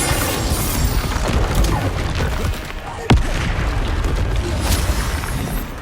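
An explosive Confringo spell cast in Hogwarts Legacy lands as a sharp, loud blast midway through a rumbling, busy battle din of booms and crashes.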